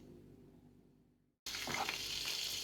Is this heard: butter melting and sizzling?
yes